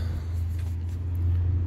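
A 1998 Chevy K1500 pickup with the 5.7 Vortec V8 idling rough, heard as a close, steady low engine rumble with slight unevenness and no voices.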